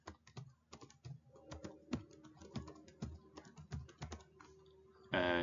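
Quick, irregular clicks of keys as a password is typed on a computer keyboard, close and fairly quiet, ending in a brief louder burst of sound.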